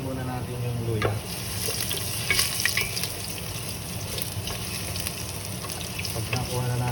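Sliced ginger rounds fry in a pan as the first ingredient for cooking clams, a continuous light sizzle with frequent scraping stirs and clinks throughout, heard close and fairly quiet.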